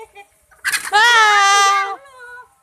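A free-range village chicken being caught lets out a loud, sustained squawk lasting about a second, close up, with softer clucks just before and after.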